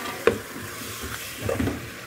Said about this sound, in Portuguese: agora vou botar aqui minha carne